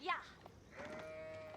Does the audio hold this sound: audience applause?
no